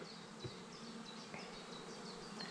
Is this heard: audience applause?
no